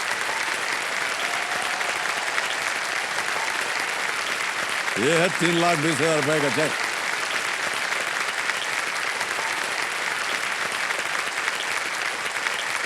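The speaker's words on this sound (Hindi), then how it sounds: "ताली बज जाए इनके लिए।" A studio audience at a television quiz show bursts into steady, dense applause for a contestant that runs the whole time, while a host talks over the clapping.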